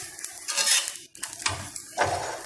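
Roti cooking on a hot tawa with ghee for a vrat thali, heard as soft sizzling with clinks and scrapes of utensils against the pan in short bursts, close and moderately loud.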